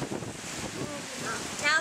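Wind buffeting a microphone outdoors at a cemetery, a loud continuous rumbling rush with a faint voice underneath.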